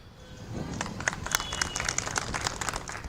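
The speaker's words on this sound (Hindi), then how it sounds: "पहले ऑडियंस के लिए तालियां।" An audience at an election carnival event in Pune breaks into applause, starting with scattered claps that build into uneven, fairly close clapping with some sharp individual hand strikes.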